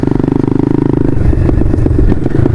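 A motorcycle being ridden, its engine a loud close pulsing drone that shifts into a rougher, steadier roar partway through, with wind and road rumble around it.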